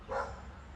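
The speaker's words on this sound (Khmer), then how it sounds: "បងប្អូនអាចឮសំឡេងឆ្កែព្រុស" A single short dog bark sounds faintly from a distance over quiet background noise.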